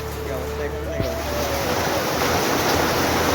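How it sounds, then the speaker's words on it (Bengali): Rain falls heavily outdoors in a waterlogged area, giving a steady broadband wash of noise. A few faint tones and a single knock sit near the start. "এমন বৃষ্টি পড়তেছে"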